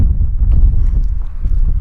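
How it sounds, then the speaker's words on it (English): Steady, heavy mountain wind buffeting close by, a dense low roar that barely lets up for the whole stretch. "extremely cold and extremely windy up here"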